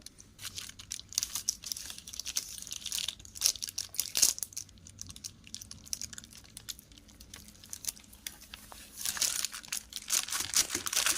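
A knife presses and cuts through set kaju katli cashew sweet, scoring it into diamond shapes with a run of close, scraping crunches and taps against the surface, with no talk.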